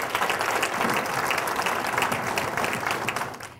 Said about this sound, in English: we should give a hand of applause to those who organized this museum